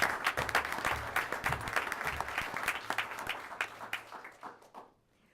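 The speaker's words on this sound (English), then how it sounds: "We probably should applaud." An audience at a school board meeting breaks into moderate applause that holds steady for several seconds, then thins out and fades to quiet.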